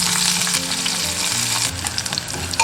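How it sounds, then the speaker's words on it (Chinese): Chopped scallion, ginger and garlic sizzle and crackle loudly as they are stir-fried in hot oil in a clay pot, a steady close-up frying hiss with small pops and stirring scrapes. "油热过后下入葱姜蒜炒香。"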